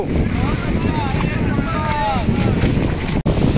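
A motor boat runs offshore at Alibaug beach, towing a banana ride, with its engine drone mixed into strong wind buffeting and surf. Voices talk faintly in the background.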